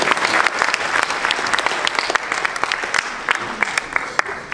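An audience claps in a dense burst of applause that stays fairly loud and steady, then thins slightly toward the end, with no one speaking over it.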